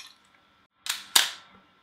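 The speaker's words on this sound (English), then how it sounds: "Let's take a slightly faster shutter speed of 1/4 of a second." A camera shutter set to 1/4 second fires with two sharp clicks about a quarter second apart, opening then closing, close and crisp against near silence.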